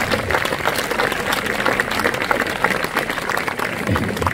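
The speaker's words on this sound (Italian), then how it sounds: "E anche un applauso," A crowd applauds at an outdoor concert by the Guardia di Finanza military band in Piazza San Lorenzo, giving steady, fairly loud clapping from many hands with a few louder claps standing out.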